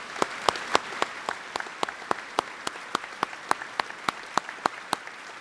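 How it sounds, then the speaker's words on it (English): A senior assembly audience at a high school claps in a sparse, evenly spaced rhythm, distinct single claps ringing out roughly every quarter second, moderately loud in a reverberant hall with no talking. "Give them a nice round of applause, all these people."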